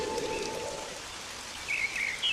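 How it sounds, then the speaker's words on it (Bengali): A sudden rainstorm in a Bengali cartoon sets up a soft, steady patter of rain, and high bird calls and chirps ring out over it at the start and again near the end. "এ কি হঠাৎ এমন ঝড় বৃষ্টি শুরু হলো"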